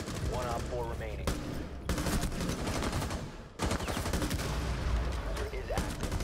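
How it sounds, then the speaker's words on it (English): Rapid bursts of gunfire from a PC shooter game crackle almost continuously, loud and close, with brief pauses between volleys and a player's voice talking underneath. "This was a one tap, but I actually shot too much afterwards."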